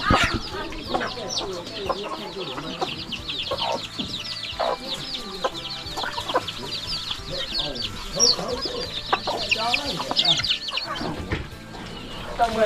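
Chickens cluck repeatedly in a rural village yard in a Lao valley, with sharp, frequent calls near and far that overlap into a busy, continuous farmyard chatter.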